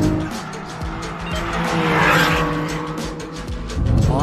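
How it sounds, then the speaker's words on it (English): A BMW M2 and a Golf R accelerate hard side by side in a rolling race, tires spinning and squealing over loud, rising engine roar, with a voice briefly heard over the noise. "Start spinning my tires."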